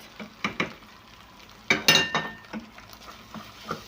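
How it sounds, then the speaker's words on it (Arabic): Onion and chicken sauté in a pan with paprika, curry, black pepper and seven-spice, giving soft sizzling with repeated scraping and clinking of the spoon against the pan as it is stirred, close and fairly quiet. "البصل بيتشوح هو والفراخ"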